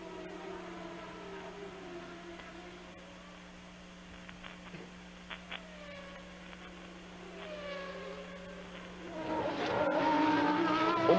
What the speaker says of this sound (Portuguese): E o Mansell tá ali meio atrapalhado para fazer a ultrapassagem do Martini